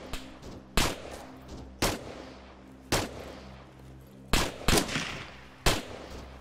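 Distinct single gunshots from infantry in the military shooter game Arma 3, sharp cracks spaced irregularly, some doubled, each followed by a short echoing tail over a quiet background.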